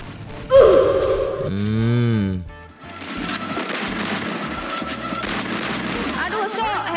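Gunfire rings out in a mobile shooter game during ranked play: a sharp shot burst near the start, followed by sustained dense gameplay noise and effects, loud and close, with talk over it.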